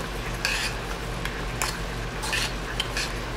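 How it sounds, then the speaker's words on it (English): Rice boiling in a small pan is stirred with a utensil, giving several sharp scraping and clinking strokes over a steady low bubbling hiss, close and alone. "I'm just going to give it a stir so you can kind of see it."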